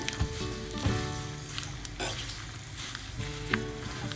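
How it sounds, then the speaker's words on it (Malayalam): Cumin, fenugreek and mustard seeds fry in oil with a steady crackling sizzle, with intermittent pops and faint stirring clatter, close by and with no talking. "ഇത് നന്നായിട്ട് ഫ്രൈ ചെയ്തിട്ട് നല്ലപോലെ ജീരകവും ഉലുവയും കടുകുമൊക്കെ മൂത്ത് കഴിഞ്ഞാൽ"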